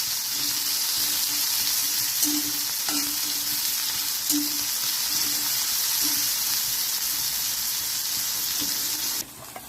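Tender spring onion greens sizzling in hot oil, a dense, continuous close-up frying hiss with occasional soft stirring taps, lasting nearly ten seconds before dropping off at the very end.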